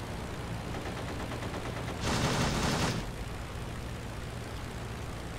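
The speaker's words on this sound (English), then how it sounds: "What on earth are you shooting at there?" Aircraft machine gun in the World War I flight simulator Rise of Flight fires a rapid burst of about one second, loud over the constant drone of the plane's engine, which continues alone before and after.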